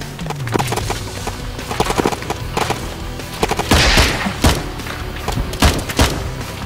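A bomb explosion in a UAV mission video game, heard as a loud burst near the middle among dense scattered thumps, booms and rapid gunfire-like bangs over continuous background noise.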